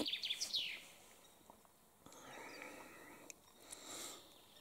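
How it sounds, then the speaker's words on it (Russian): Faint birdsong outdoors by a pond, with a few high chirping phrases at the start and again near the end over a soft, steady background hiss. "Зато птички поют хорошо."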